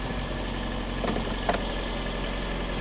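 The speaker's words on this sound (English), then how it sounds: "Car seems to run fine." A 2003 Ford Fiesta engine idles steadily after starting, a low even hum with two faint clicks over it and no voices.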